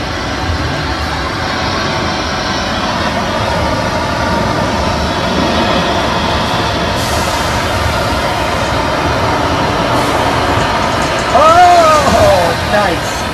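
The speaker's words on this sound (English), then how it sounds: "Here comes a flood." A staged flash flood on a hillside set at a Universal Studios tour rushes as a loud, steady roar of water heard from a tram, swelling slightly near the end.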